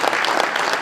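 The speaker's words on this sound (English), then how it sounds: "just give Dr. Anderson a round of applause" An audience claps for a speaker at a livestock nutrition talk: a brief, dense burst of many hands clapping at once, loud and close, lasting under a second.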